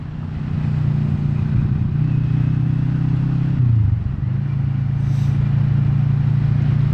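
Kawasaki Vulcan S motorcycle cruising along a road, a steady low engine drone with a brief dip around a gear change before settling back to an even rumble, loud and close throughout.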